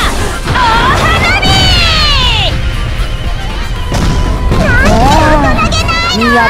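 Loud bursts and crackling booms of fireworks from Fate/Grand Order, with whistling rising tones streaking over dense game action and shouting voices.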